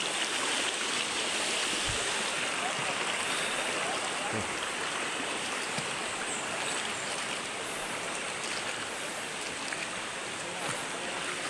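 River water in Negros Occidental flows toward Central Carlota, producing a constant broadband rushing wash that stays even and fairly close throughout.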